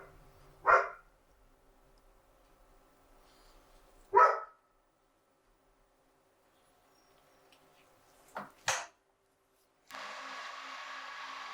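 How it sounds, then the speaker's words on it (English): A dog in a workshop gives a few sharp barks, two single barks spaced apart and then a quick double, separated by quiet gaps, followed by a steady mechanical hum. "Even the dog approves."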